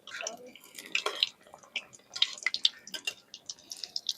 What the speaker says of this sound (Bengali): এই মালপোয়া গুলো ভাজতে গেলে কিন্তু অবশ্যই মিডিয়াম টু লো আঁচে ভাজতে হবে